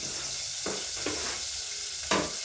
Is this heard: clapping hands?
no